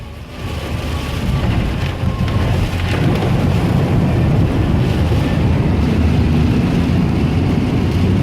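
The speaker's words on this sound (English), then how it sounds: "that one just came up higher than the roof when we drove through it at 20" A small Subaru ploughs through deep flood water on a rainy road at about 20, throwing a heavy, sustained roaring splash with continuous loud wash and wind rumble and no talk.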